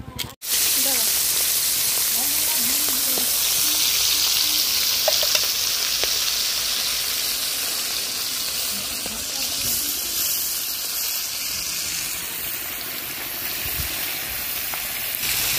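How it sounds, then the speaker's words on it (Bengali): Fish fries in a pan with a loud, continuous close-up sizzle that holds steady throughout, with faint voices and kitchen activity underneath. "এখানে এই যে কতিলা মাছ ভাজা শুরু করে দিয়েছে"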